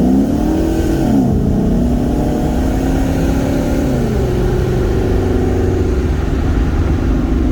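Car engine at the Dream Cruise accelerating through rising revs, with a loud, close, continuous drone whose pitch climbs in steps as it shifts through gears, with no talk.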